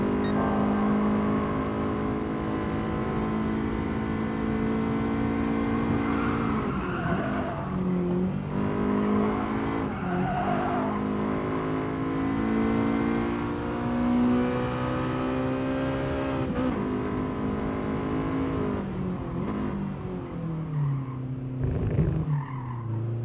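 Honda Type R engine driving in GT Sport, a steady loud drone with rising and falling pitch as the revs change, alone without talk throughout.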